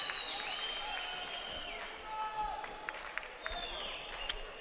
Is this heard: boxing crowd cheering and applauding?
yes